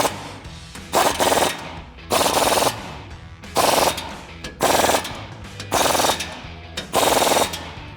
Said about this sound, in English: Then we're going to tighten down these 4 bolts with a 21mm socket and an impact.